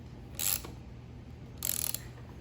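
Wrench work on the bar nuts of a Husqvarna 357XP chainsaw: two short bursts of bright metallic ratcheting about a second apart, close and fairly loud over a low steady hum.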